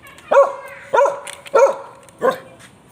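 Dog barking indoors in a house, four clear, separate barks in an uneven rhythm, each loud and close with a tonal, yappy quality and quiet gaps between.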